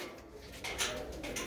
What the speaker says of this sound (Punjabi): ਕਬੂਤਰ ਦੇਖੋ ਬਾਈ,